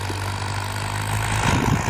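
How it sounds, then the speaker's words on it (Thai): A heavy diesel Ford New Holland 7610 tractor with a turbocharged, intercooled engine idles steadily nearby, a low throbbing drone that swells slightly louder toward the end. "ใส่เครื่องยนต์ซีสูบเทอร์โบอินเตอร์คูลเลอร์นะครับ"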